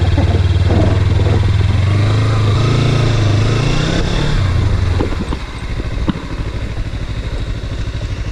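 Motorcycle engine, a Ninja 300 or RC 390 on a muddy monsoon off-road hill trail, runs loud and close with steady low revving that eases off partway through, over some rattling clatter.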